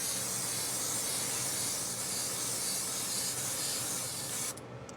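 Thinned black paint sprayed in light coats onto a plastic MPC Star Wars Shuttle Tydirium model kit, a steady close airbrush-like hiss that runs evenly and cuts off near the end.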